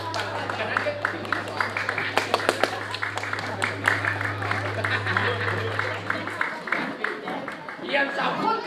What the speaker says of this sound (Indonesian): Kemudian lalu tepuk tangan, terus tepuk tangan